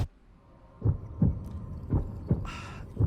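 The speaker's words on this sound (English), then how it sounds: "The heartbeat getting faster." Heartbeat sound effect from the Zelda Breath of the Wild 2 reveal trailer: five deep, thudding low pulses at a steady, fairly quick pace, with a brief bright swell near the end and no voices.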